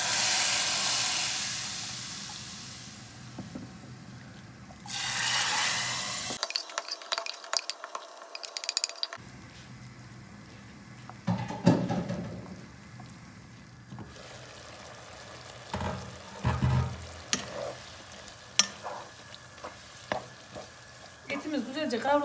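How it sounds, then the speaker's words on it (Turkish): Meat sautés in a hot pan, hissing and sizzling, with stirring scrapes and clatter, bursts of steam and intermittent knocks of utensils. "Etimiz güzelce kavrulsun arkadaşlar."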